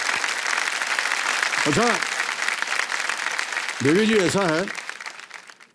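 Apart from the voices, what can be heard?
studio audience applause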